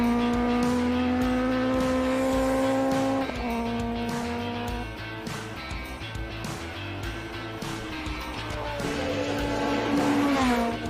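A classic race car engine screams at full throttle on the Simola hillclimb course, loud and close, its pitch climbing through the gears with sharp drops at each shift and tire noise mixed in.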